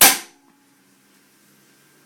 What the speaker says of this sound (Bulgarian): втори изстрел.